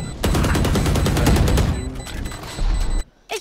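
Rapid automatic gunfire from the video game Valorant, loud and dense in a sustained spray lasting about three seconds, with short pauses near the end and then a sharp cut-off.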